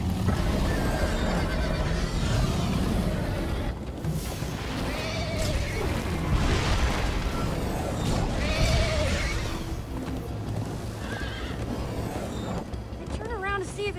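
Several horse whinnies and snorts rise over a busy, noisy Minecraft: Story Mode game soundscape with hoofbeats and rushing sound, and a voice briefly cuts in near the end.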